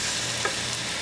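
Ribeye steak sears on a Blackstone griddle, a constant close hiss and sizzle with one small crackle pop partway through, without speech.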